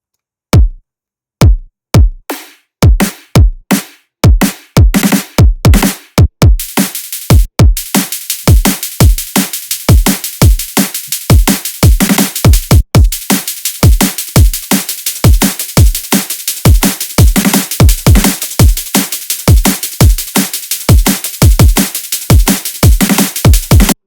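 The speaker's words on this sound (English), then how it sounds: "I'll unmute all the drums one by one just to give you an idea what is going different in this drop" Drums from a drum and bass remix drop come in layer by layer, starting with sparse punchy hits and building into a dense, fast, driving breakbeat pattern with bright cymbals, loud and continuous, no voices.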